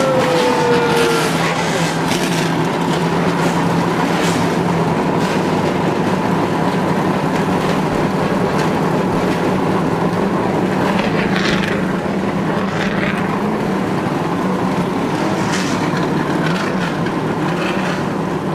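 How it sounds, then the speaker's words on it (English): A field of eighteen NASCAR race cars fires up together at Daytona for the 2001 Budweiser Shootout, a dense, sustained roar of many engines idling loudly over crowd ambience. "Gentlemen, start your engine!"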